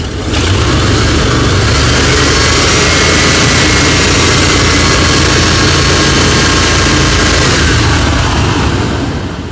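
A 1988 Chevrolet Suburban 2500 V8, revived after six years in storage, revs hard and loud for nearly ten seconds, a steady roaring engine drone that stays close and dominant before easing slightly at the end.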